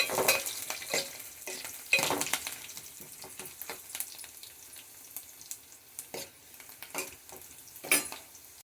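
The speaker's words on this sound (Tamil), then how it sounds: "வெங்காயம் பொடியே அரிஞ்சு வதக்கிட்டு அதிலே தக்காளியும் வதக்கிட்டு" Chopped onion and tomato sautéing in a pan for a Mangalore-style fish curry, a continuous sizzle broken by repeated stirring clatters of a utensil against the pot, no voices.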